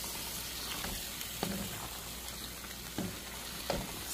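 Pepper steak beef sizzling in a pan as it is tossed in sauce: a steady soft frying hiss with a few faint clinks and stirs, close and quiet.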